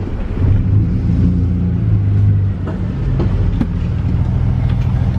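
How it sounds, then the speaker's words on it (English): Ford BA Falcon XR6 drift car engine running steadily as the car pulls away, a loud continuous low rumble close by with a slight dip midway, no talking. "Start her up. Oh yep, we're moving."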